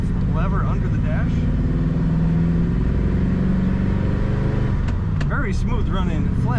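A 1950 Ford Tudor sedan's flathead V8 with a three-speed column-shift manual pulls away and accelerates, a steady low engine drone that rises in pitch through the gears, with talk over it.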